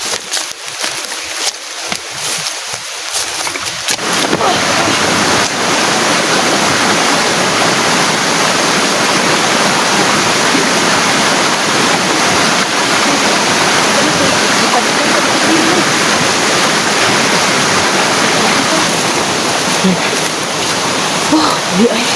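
Rushing stream water fills the scene during a creek crossing on foot, starting after a few seconds of quieter movement and then holding a loud, steady broadband roar close by, with voices present.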